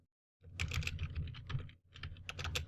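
Typing on a computer keyboard at a desk: a close, quick run of crisp key clicks with a short pause midway before a further burst of keystrokes.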